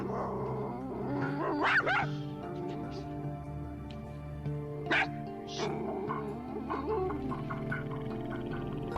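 A dog's barks and yelps come in short bursts near the start and middle, under steady voice and background sound from a dog behavior program.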